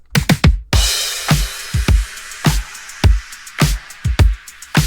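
Full pop drum loop of kick, snare, layered loops and a washing crash with a falling downlifter, busy rhythmic hits over a sustained bright wash, loud and without talk.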